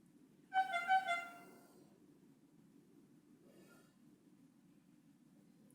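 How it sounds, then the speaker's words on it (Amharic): A car horn sounds outside a condominium kitchen, one short burst of honks up front, then a faint far-off toot midway over a steady low background hum. "እንግዲህ የመኪና ክላክስ ገብቶብኛል ድምጽ፣"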